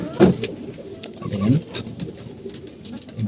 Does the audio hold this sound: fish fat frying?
no